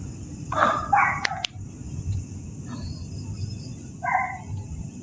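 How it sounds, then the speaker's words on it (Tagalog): A few dogs bark in short bursts, a couple of quick barks early and another later, somewhat distant against a quiet background. "narinig nyo, nag-ingay yung mga aso"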